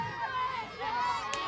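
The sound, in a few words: wrestling show crowd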